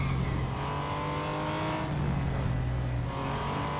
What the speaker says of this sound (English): Bit of skidding.